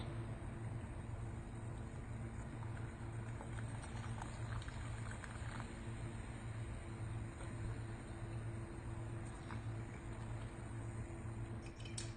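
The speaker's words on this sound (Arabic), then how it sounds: "هذا البيبسي الآن بدأ يغلي." Steady bubbling and low simmering hiss of Pepsi boiling in a pot on a stove, with a constant low hum underneath and occasional small pops.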